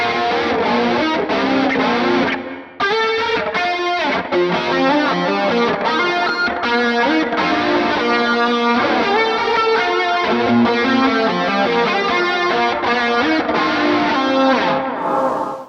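A distorted electric guitar played through a NUX Fireman amp preset, modeled on the Friedman BE100, with chorus, delay, hall reverb and a tube screamer boost, plays a loud, sustained rock riff with chords and lead lines and no talking.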